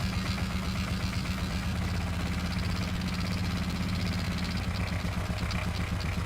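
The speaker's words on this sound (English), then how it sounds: "It sounds like a 4-stroke." A simulated four-stroke engine in the Gear Blocks building game runs in a steady, rumbling, pulsing drone with a slight shift in tone partway through, loud and continuous with no talking.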